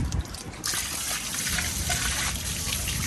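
Water gushes steadily as an RV gray tank is pulled and flushed out, a loud, continuous rushing flow that swells after a brief quieter start and carries on without any talk.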